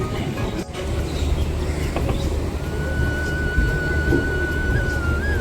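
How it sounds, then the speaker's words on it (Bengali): A train rumbles steadily as it pulls away from Dum Dum station, Kolkata, with a long high-pitched squeal of wheels on rails rising over the constant low roar. "দেখো দমদম থেকে ছেড়ে দিল ট্রেনটা"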